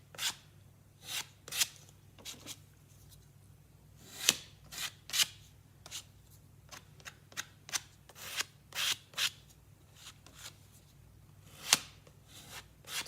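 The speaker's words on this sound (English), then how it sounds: "we're just going to scrape over it" Tool scraping over the surface of a wooden dresser, a series of short sharp rasping strokes at an uneven rhythm, close and fairly distinct against a quiet background.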